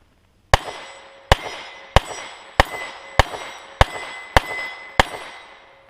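Eight pistol shots from a post-war Walther P38 police surplus pistol fire in a quick, even rhythm. Each sharp report is followed by a bright metallic clang ringing from a steel plate about 20 yards away.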